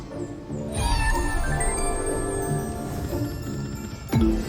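A cartoonish cat meows in the Magic Kitty video game: one long, drawn-out, wavering yowl, followed by a short, sharp second meow near the end, loud and close over game background sound.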